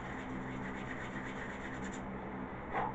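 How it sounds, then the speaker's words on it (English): Steady, close rasping of an 80-grit sanding block rubbed back and forth over a wooden wheel, continuous for a few seconds with a slight scrape at the end. "take our 80 grit sanding block and just quickly clean up both sides of the wheel"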